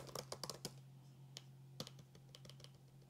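MacBook Pro keys, including the spacebar, pressed several times, giving sharp, close clicks in an irregular cluster early on and then sparser taps, with a steady low hum underneath.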